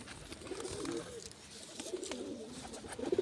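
Domestic pigeons cooing nearby in soft, rolling low calls that come in two bouts, with a little background noise and no speech.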